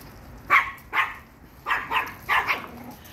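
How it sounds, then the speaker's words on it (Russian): Chihuahuas barking while they play outside at a kennel, with five or six sharp yips spaced irregularly over a few seconds, moderately close, with no talk. "Пока собаки бегают, играют, мы гуляем."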